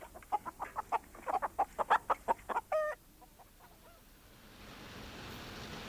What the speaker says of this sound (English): a chicken hatched out and flew away